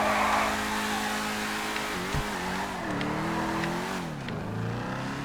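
Grotti GT500 with quad exhausts in GTA 5, its engine revving loudly with pitch rising and falling through several throttle blips, steady and close with no talk.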